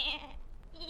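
A single goat's bleat, a short quavering nasal call heard close and fairly clear, part of a Czech fairy tale being read aloud about animals seeking a place to sleep in a cottage.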